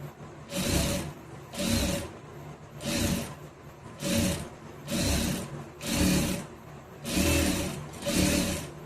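A sewing machine stitches a saree-border back neck design in about eight regular, evenly paced bursts, each roughly a second apart, close and moderately loud, with no talking.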